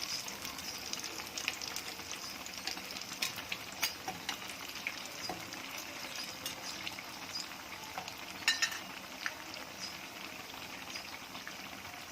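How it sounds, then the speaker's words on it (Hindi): Mathi snacks frying in hot oil, a steady dense crackling sizzle throughout with occasional faint clicks of a utensil, fairly quiet and close. "ये देखें बहुत अच्छी तरीके से दोनों तरफ से फ्राई हो गए हैं"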